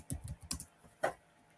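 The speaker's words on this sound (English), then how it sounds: "I think I have to type specifically index.html." Quick keystrokes on a computer keyboard come in two short clusters of close, crisp clicks, followed by one harder tap, with quiet room tone around them.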